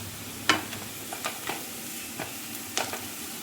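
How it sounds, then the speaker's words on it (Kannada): Chopped onion, ginger, garlic and green chilli fry in a pan for a brinjal curry, a steady close sizzle broken by sharp scrapes and clinks of a spoon stirring every second or so, with nobody talking. "ಇದನ್ನು ಹಾಗೆ 1 ನಿಮಿಷ ಆಗುವಷ್ಟು ಫ್ರೈ ಮಾಡ್ಕೊಳ್ಬೇಕು."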